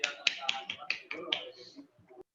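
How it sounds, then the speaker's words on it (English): Online meeting participants applaud over unmuted microphones, a short burst of rapid, scattered claps that is fairly faint and fades out after about two seconds. "everybody clap."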